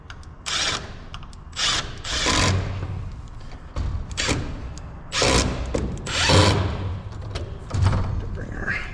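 A power driver runs screws into a garage wall while a Chamberlain RJ070 wall-mount garage door opener is installed, giving several loud bursts of whirring with short pauses between them and talk heard in the gaps.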